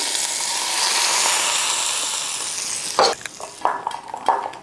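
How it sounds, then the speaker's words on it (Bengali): Hot oil poured over paneer tikka marinade spices of Kashmiri chilli powder, salt, pepper and turmeric, giving a steady loud sizzle that fades into scattered stirring scrapes and utensil clinks. "এবার গরম করা তেলটা দিয়ে দিচ্ছি"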